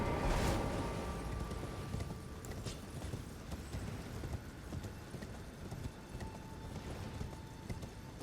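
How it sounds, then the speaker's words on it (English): A horse ridden in the Elden Ring video game gives steady, rhythmic clip-clop hoofbeats at moderate volume, with a faint game ambience beneath and a few brief sharper clanks. "Oh, I can ride my horse here."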